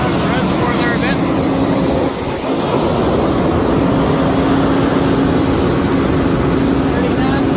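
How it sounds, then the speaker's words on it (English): Water from a garden hose flushing the coolant system of an 8.7L Iveco engine makes a steady, loud rushing wash that runs unbroken throughout, with a faint hum underneath. "Now I'm flushing it with the garden hose."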